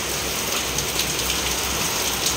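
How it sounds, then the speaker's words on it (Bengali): Heavy rain pours down in a dense, unbroken hiss, drops drumming hard on surfaces close by with no voices. "দেখো দারুণ জোরে বৃষ্টি হচ্ছে"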